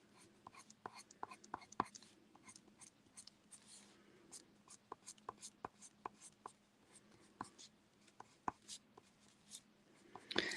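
Coloured pencil scratches across paper in quick, irregular strokes during mixed media crafting, soft and close, with faint whispery talk underneath.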